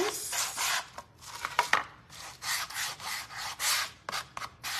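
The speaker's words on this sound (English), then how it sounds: "now let me sand it. I'm gonna go around the handles." Hand sanding around the handles of a small wooden craft basket: repeated scratchy rubbing strokes in an uneven rhythm, close and fairly loud, with brief pauses between passes and no talking.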